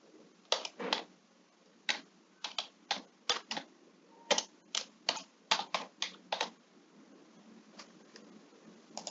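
Computer keyboard keys clicking in quick, irregular bursts of a few strokes at a time, close and clear against a quiet background, as text is entered into a spreadsheet; no talking.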